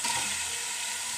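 Tomatoes sizzle in a hot frying pan during chicken cooking, a steady close broadband frying hiss that continues throughout without talk.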